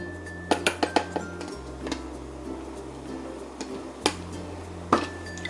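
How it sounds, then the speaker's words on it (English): A LeeGoal portable blender bottle turned upside down and unscrewed from its motor base gives a few quick plastic clicks and clinks up close, with a low steady hum under them and a couple more taps near the end. "Okay, so now we're going to detach it from the blender. You turn it upside down, screw off the bottom."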